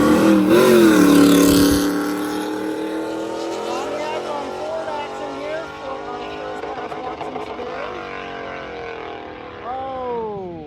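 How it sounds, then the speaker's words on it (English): Drag racing cars roar off the line at a drag-and-drive event, a loud revving burst for the first two seconds that fades into distant engine drone, with another engine rising near the end. "we are getting started with some racing"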